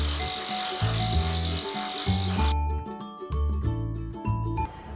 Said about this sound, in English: I'm just gonna use my saw and go around